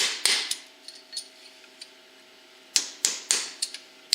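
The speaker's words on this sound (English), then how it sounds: "I'm just going in here now with a punch and driving the outer bearing rings out" A punch is hammered to drive the outer bearing rings out of a Polaris Sportsman front axle, giving sharp metallic strikes: a few early blows, a pause with a faint ringing hum, then a quick cluster of hard hits near the end.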